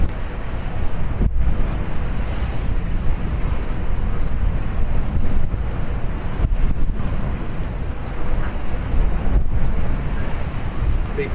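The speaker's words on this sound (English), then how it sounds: "you feel how much wind's blowing out here." Strong wind roars across the microphone aboard a sailing boat beating across open sea between Gambia and Cape Verde, with waves washing and slapping against the hull, loud and continuous with gusty swells throughout.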